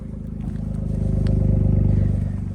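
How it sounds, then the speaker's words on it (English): A Daihatsu Naked's engine idles with an aftermarket exhaust, a steady, throbbing low burble with rapid even pulses that grows slightly louder, close to the car. "So here's how it sounds with the exhaust."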